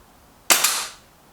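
One sharp air rifle shot from a Lee Enfield Sentry or Artemis M11 cracks close and loud, with a quick second transient and a short decaying tail before quiet returns.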